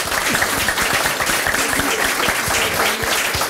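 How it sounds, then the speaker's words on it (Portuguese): Audience applause after a presentation, a loud, dense and sustained clapping from many people filling the room throughout. "Mas palmas para eles."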